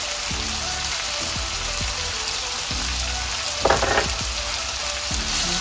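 Eggs with garlic powder, seasoning and salt frying in a pan as they are stirred: a steady, loud sizzle runs throughout, with scattered soft spatula scrapes and a brief sharper burst near the end.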